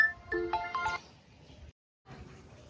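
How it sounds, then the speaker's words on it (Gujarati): A mobile phone ringtone plays a short melodic phrase of bright tones for about a second, then fades into quiet room noise and a brief silence. "યો કોનો ફોન આવ્યો."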